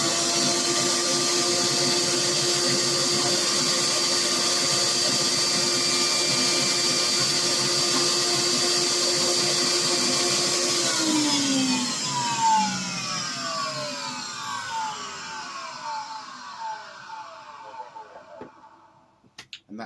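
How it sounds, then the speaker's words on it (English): A loud, steady vacuum motor of a record cleaning machine whines continuously while vacuuming a vinyl record, then powers down with a falling pitch near the end before a few small clicks. "And then you just vacuum it off again"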